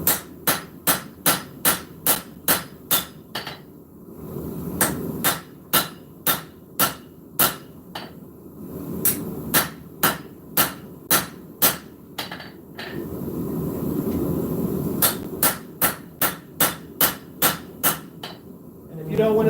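Hammer blows on hot steel during live knife forging, struck in quick rhythmic bursts of a dozen or so ringing impacts, separated by pauses filled with a low roar, likely the forge fire.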